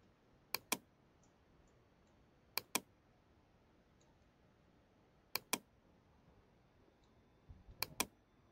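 Keyboard shortcuts are pressed for Photoshop work, four pairs of quick, sharp key clicks spaced a couple of seconds apart in a quiet room, close and without speech.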